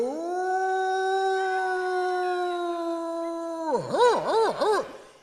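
A mimicry artist's voice imitates a howling dog, one long sustained howl with a steady pitch, then a few rapid wavering yelps that rise and fall, close and loud.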